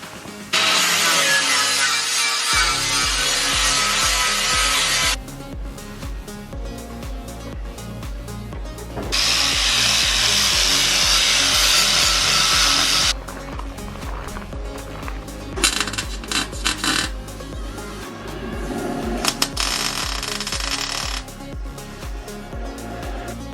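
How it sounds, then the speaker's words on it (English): Long stretches of harsh, loud grinding on a Land Rover Discovery's steel chassis start and stop several times, with a steady machine hum underneath. "grind back the chassis along here."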